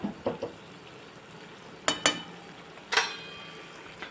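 Leftover roti hakka noodles with spices are stirred in a pan, with a faint sizzle underneath and a few sharp scrapes and clinks of a utensil against the metal, spaced unevenly.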